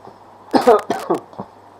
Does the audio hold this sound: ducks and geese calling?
no